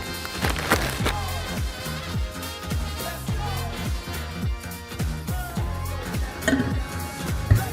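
Wood chips are loaded into a compressor-driven smoke generator, giving a steady run of hollow clattering and rattling knocks, close and fairly loud, with no voices.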